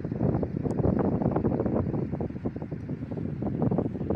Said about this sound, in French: comme on l'entend beaucoup, il y a du vent. On entend peut-être aussi la mer.